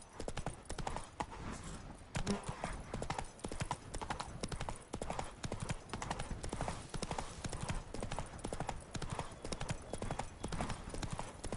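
Roach the horse galloping in The Witcher 3, a steady rapid drumming of hoofbeats that runs throughout at moderate level, with a brief whinny-like tone near the start.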